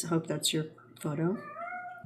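A daughter's pet cat meows loudly and close by, a long wavering call following a person's brief speech, with the voice and meow partly overlapping.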